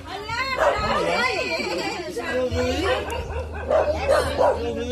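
A dog barks repeatedly in short, sharp bursts, fairly close, while several people talk over it.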